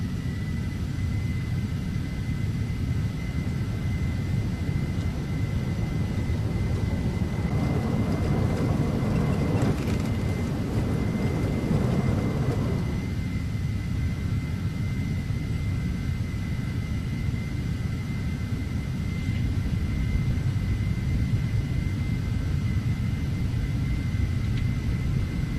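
An Embraer Phenom 300 business jet powers up for takeoff in a flight simulator game, a steady loud rumble of jet engines with a brief surge in the middle as thrust builds.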